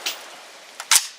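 Swiss SG551 carbine fitted with a muzzle brake fires a single sharp, loud shot near the end, preceded by a faint click and a smaller snap.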